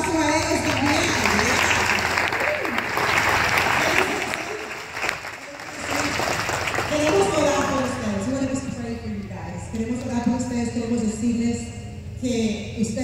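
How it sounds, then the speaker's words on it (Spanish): A standing church congregation claps at a back-to-school prayer service, dense applause and crowd noise for several seconds, then fading as a voice talks and music-like tones continue underneath. "un aplauso a ellos también"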